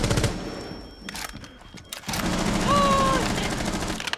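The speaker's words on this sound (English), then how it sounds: "What's that wallbang spot you were shooting?" Rapid gunfire in Rainbow Six Siege, shots punched through a wall in quick bursts, loud and close, mixed with game sounds and voices talking over the action.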